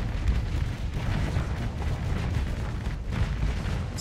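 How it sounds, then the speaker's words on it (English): Missile volleys launching in the space combat game Starsector, a continuous rumbling barrage of booms and bursts that keeps going without a break, loud and dense throughout. "I'm just shooting all the missiles."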